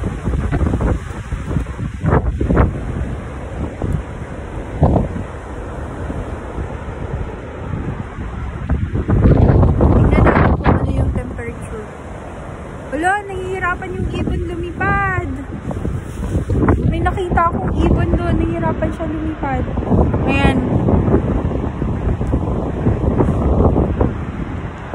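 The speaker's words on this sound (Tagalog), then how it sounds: "parang umiikot yung hangin" Gusty wind swirls, roaring and buffeting the microphone in swelling waves in cold Norway, while voices talk intermittently over the rushing noise.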